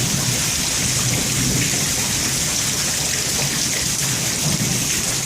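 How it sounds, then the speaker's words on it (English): A thunderstorm, the first of the year, with steady heavy rain pouring onto surfaces and low rumbling thunder rolling underneath, a constant dense wash of sound throughout. "First storm of the year."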